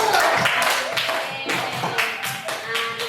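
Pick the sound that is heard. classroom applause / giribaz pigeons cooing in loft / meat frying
classroom applause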